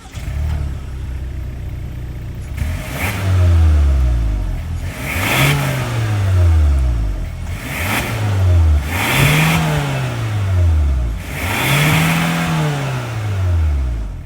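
A 2024 Hyundai Santa Cruz XRT's 2.5-liter turbo four-cylinder starts and is revved repeatedly, five sharp rising blips that fall back toward idle, loud and close with no talking.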